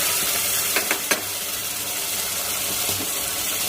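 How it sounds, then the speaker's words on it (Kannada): A ground paste of ginger, garlic, coriander leaves and green chilli sizzles steadily in hot oil, with a few faint stirring clinks and no talking. "ಇದು ಚೆನ್ನಾಗಿ ಫ್ರೈ ಆಗಬೇಕು."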